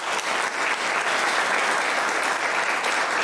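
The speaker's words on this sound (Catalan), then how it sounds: "un aplaudiment per l'Antoni, sisplau" An audience applauds steadily at an art exhibition opening in a monastery, a dense, even wash of clapping that holds for several seconds without a break.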